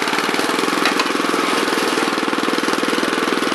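Honda FR600 tiller engine running steadily with the choke on, a loud, close, rapid chugging throb that holds even throughout, with no voices.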